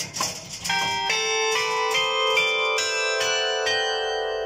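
A sequence of church bell tones, played from a keyboard linked to the clappers, rings out one after another in a rising run in a town square, each clear strike overlapping the lingering resonance of the previous ones.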